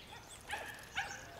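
Dogs at an outdoor dog park give two short, faint yips or barks in a quiet open space, heard at a distance with no close speech.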